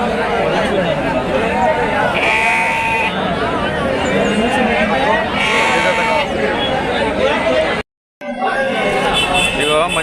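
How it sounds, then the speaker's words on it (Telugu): Young spotted ram lambs and sheep, about three to four months old, bleat repeatedly at a busy livestock market. The calls are loud and overlapping over a steady crowd murmur, with people talking nearby, and cut out briefly near the end. "ఇదిగో మంచి మంచి చుక్కల పొట్టేళ్ళ పిల్లలు వచ్చినాయి"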